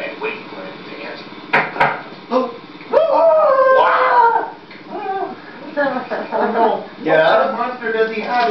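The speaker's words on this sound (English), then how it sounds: "Please get this dog off me!" A dog barks, yips and whimpers up close in a home doorway during a puppet comedy skit, the noises bursting out irregularly amid loud voices.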